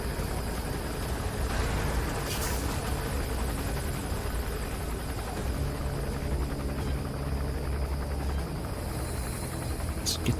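A helicopter in Metal Gear Solid V gives a continuous rotor hum and whir, steady and moderately loud, heard alone through the whole stretch.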